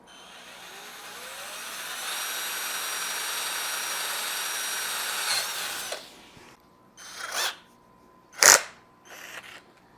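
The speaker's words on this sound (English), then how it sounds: "Do a quick drill hole." A power drill runs steadily for several seconds, whining and grinding, then stops; a few short bursts follow, one sharper and louder.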